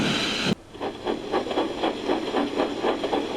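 Two steam engines setting off, a sharp hiss cutting off and then rhythmic chuffing puffs building steadily, near and moderately loud.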